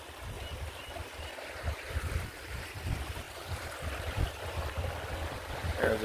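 A small creek flows under a bridge, giving a steady, close rushing wash with a rough wind-like hiss and faint gurgles throughout, and no voices.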